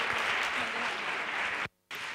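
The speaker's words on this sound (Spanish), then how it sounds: "li fem un aplaudiment de, de benvinguda" An audience at a talk on sequencing techniques in onco-hematological diagnosis gives a welcoming round of applause, dense steady clapping at moderate level that cuts off abruptly near the end, then resumes briefly.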